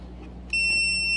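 A steady, high-pitched electronic beep from an Aicevoos 1288F digital clamp multimeter starts abruptly and holds continuously over a low background hum.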